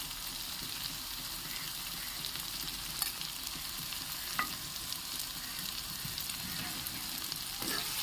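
Broad bean pieces with turmeric being stirred in a hot pan, a soft continuous sizzle with scattered scraping ticks from the spoon, faint and close, with no voices.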